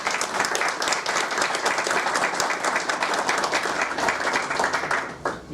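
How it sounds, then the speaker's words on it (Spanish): A lecture hall audience gives a guest lecturer a loud, sustained round of welcoming applause, many hands clapping densely before it trails off slightly at the end. "pido un fuerte aplauso de recibimiento"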